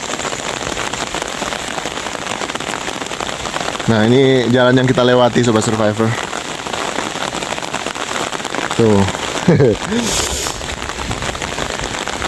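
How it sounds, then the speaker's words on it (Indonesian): Relentless rain pours over a transmigration settlement in North Kalimantan, a loud, steady hiss of drops drumming on surfaces throughout, while someone talks briefly over it twice. "ini sedang hujan di Kalimantan Utara saat ini,"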